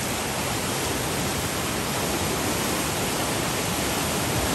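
Strong floodwater current surges during a typhoon-driven flood in Hinaguan, a loud, dense, continuous roar of rushing water with no break and no voices.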